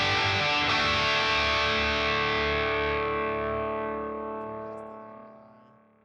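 An electric guitar run through the Bias Pedal Distortion in Bias FX rings out as one heavily distorted sustained chord that slowly decays over several seconds, with no talking.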